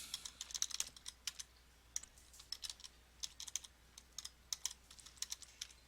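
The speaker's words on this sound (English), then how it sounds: "here I'll go ahead and type in some incorrect answers" Answers typed on a computer keyboard: quick bursts of light, crisp key clicks with short pauses between words, close by but quiet, no voices.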